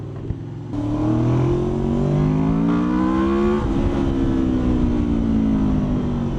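A motor scooter on a ride near London revs up from idle into a steady, loud engine drone whose pitch climbs and then levels off, with no talking.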